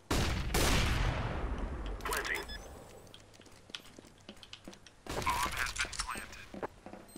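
Gunfire erupts in a CS:GO match: a loud opening volley, a second burst, then scattered cracks before another heavy flurry near the end, with players talking underneath.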